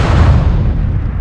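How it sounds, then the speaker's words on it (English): A propane tank explodes in a film scene, a loud deep boom with heavy low rumble that fades away over about a second, with no talking. "Brian gets blown to smithereens when a propane tank explodes in a comedic twist ending."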